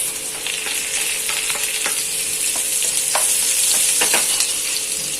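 Garlic, curry leaves and green chilies frying in hot oil give a loud, steady sizzle and crackle, close up, with scattered stirring clicks and no voices.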